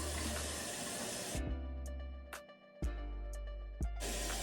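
Water runs from a tap during handwashing in a home kitchen. The steady hiss is close and loud, cuts off for a few seconds with small knocks and clinks, then starts again at the end.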